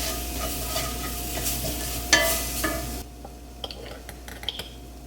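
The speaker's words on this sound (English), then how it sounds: "I'm just going to stir this up some." Crushed coriander and cumin being stirred in a hot pan, with a steady low sizzle and scraping utensil strokes, one sharper clatter midway, then quieter scattered clicks as the stirring continues alone.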